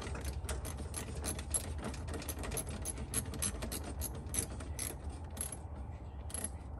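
A 13 mm ratchet wrench clicks in rapid, steady bursts while a battery is installed in a Ford Transit van, with close mechanical ratcheting over a low background rumble.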